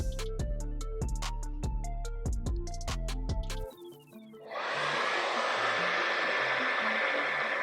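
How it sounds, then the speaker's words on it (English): Hair dryer fitted with a diffuser, drying a curly afro glueless closure lace wig, a steady loud blowing rush that starts after a few seconds of music and continues alone to the end. "So we want to diffuse the curls."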